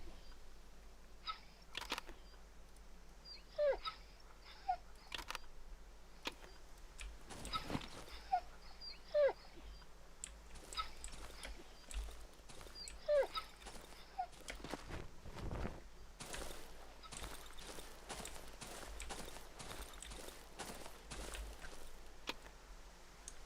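Dog whimpering in the survival horror game Darkwood, thin high whines recurring every few seconds amid game ambience, footstep-like clicks and scattered bumps, fairly quiet throughout.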